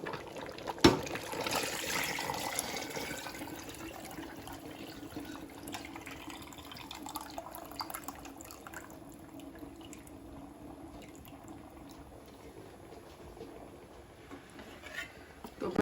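Boiled paya broth (yakhni) from goat trotters poured into a pot of masala for Delhi-style paya curry, a wet gushing splash at the start easing into a soft trickle and quiet simmering, close and without talk.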